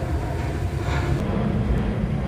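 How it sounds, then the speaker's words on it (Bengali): An airplane passes overhead as a continuous low, broad rumble, steady and fairly loud with no voices, heard from the ground in Changi. "দেখেন বিমান যাচ্ছে"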